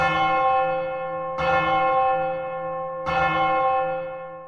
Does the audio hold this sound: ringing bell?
yes